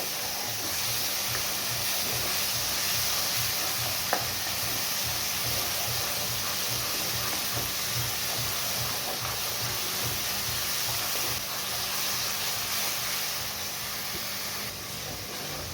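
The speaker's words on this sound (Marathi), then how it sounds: "आता आपण हे व्यवस्थित मिक्स करून घ्यायचं आहे मसाला व्यवस्थित तेलामध्ये आपल्याला परतवून घ्यायचा आहे" Spice masala fries in oil in a pan over a medium flame for shev bhaji curry, giving a continuous close hissing sizzle with a faint low rhythmic rumble and no talking.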